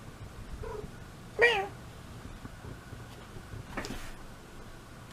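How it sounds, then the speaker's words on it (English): Indoor house cats let out a clear meow, followed a few seconds later by a fainter second call, over a low room hum. "These cats are ridiculous."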